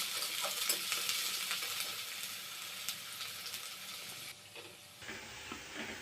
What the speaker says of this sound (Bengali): তেল গরম হয়ে যাওয়ার পর কড়ার মধ্যে পেঁয়াজ কুচি দিয়ে পেঁয়াজটা একটু ভালো করে ভাজা করে নিলাম।